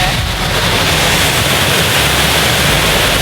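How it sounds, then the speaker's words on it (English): A jungle waterfall in Sarawak gives off a loud, steady roar of rushing water that holds even and unbroken throughout, with no voices. "we have a waterfall right there"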